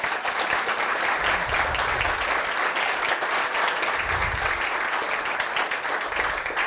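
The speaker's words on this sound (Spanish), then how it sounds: "Un aplauso." Sustained applause from an audience at a talk-show event for a secretary of communication, dense steady clapping throughout with a few low thumps, no voices on top.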